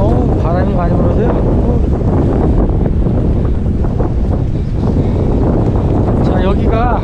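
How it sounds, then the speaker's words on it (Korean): Strong, roaring wind buffets the microphone on a mountain summit, a continuous loud rush of gusts with no pause throughout. "바람이 많이 불어서요."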